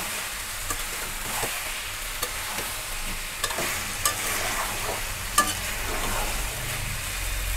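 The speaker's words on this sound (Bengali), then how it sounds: "মাংসটাকে আমি ভালো মতো কষিয়ে নিয়েছি" Chicken pieces braising for Bengali chicken kosha, a steady close sizzle in the pan broken by repeated scraping and stirring strokes at an irregular pace.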